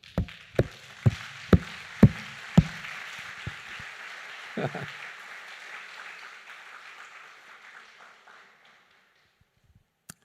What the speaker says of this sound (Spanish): es el momento de dar un fuerte aplauso